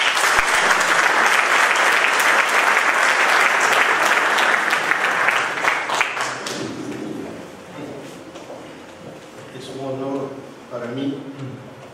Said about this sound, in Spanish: Igualmente lo recibimos con aplausos.